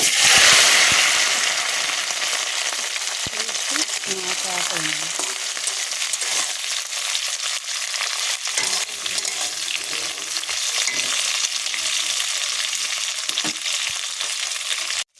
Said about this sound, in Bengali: তেলটা গরম হয়ে গিয়েছে, এখানে আমি মাছগুলো দিয়ে দেবো